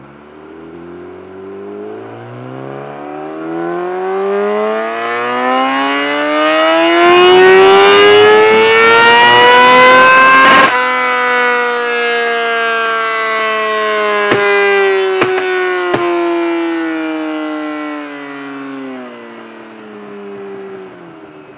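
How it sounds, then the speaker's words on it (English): A 2020 Yamaha R6 with a Yoshimura full exhaust system and DNA air filter revs on a dyno during flash tuning, its loud engine note climbing steadily in pitch, peaking with a harsh roar, then falling back as the throttle eases. "I've just loaded this new model Yamaha R6 on the dyno, plugged everything in, got it ready to go, fitted a Yoshimura full system to it"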